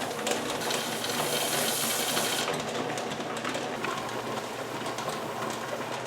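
A pressure canner full of meat jars building pressure on the stove, giving a loud continuous hissing rattle with a fast jittering weight, steady throughout and heard alone.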